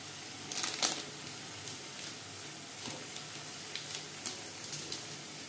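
Lote fish being dry-roasted in a pan with ground garam masala, giving a faint, steady sizzle with light scraping and crackling of stirring, a few sharper ticks standing out, with no talk.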